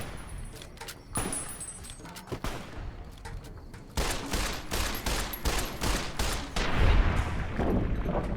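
Shotgun gunfire in the Fallout: New Vegas video game, a burst of sharp, loud blasts in quick succession with dense overlapping shots, game sound effects and rattling in the background.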